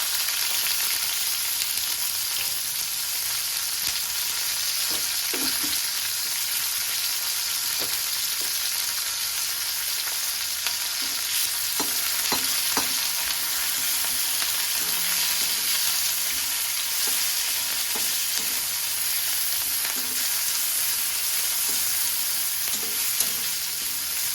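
Raw onion and green chili fry in a pan with a steady, close sizzle and crackle, punctuated now and then by the scrape of stirring, with no talking.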